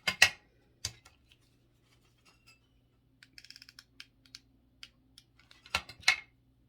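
Paper being trimmed with scissors for a craft Valentine gnome: a few sharp snips at the start, a run of small rapid cuts in the middle, and louder crisp snips near the end, close and alone.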